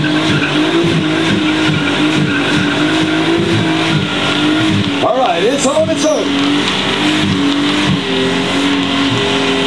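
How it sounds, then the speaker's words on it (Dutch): A Japanese tuner car engine roars steadily with screeching tires during a sustained burnout at a car show, loud and close, while a voice speaks briefly in Dutch over the din. "Hij begint te burnen, ja hoor."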